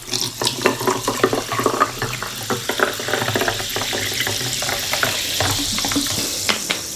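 Water runs from a tap into a container in a home kitchen while drinking water is prepared, a steady rushing flow with small clinks and splashes, fairly close and continuous, with no talking.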